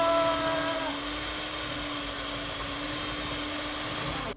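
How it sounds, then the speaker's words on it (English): A cheap handheld electric mixer beats gingerbread dough in a small bowl, its steady high-pitched motor whine running loud and close throughout with no talk. "Okie dokie, my cheap hand mixer, please make it over here."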